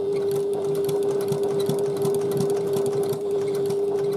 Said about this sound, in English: just stitch at 1/8 of a seam allowance, 1/8 of an inch seam allowance, and you may find it will start gathering as you stitch